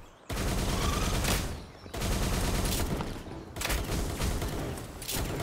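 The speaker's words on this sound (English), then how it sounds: "Just kick it off with a machine gun." A machine gun in Palworld rattles in long sustained bursts, three or four strings of rapid fire separated by short breaks, loud and close with no talk over it.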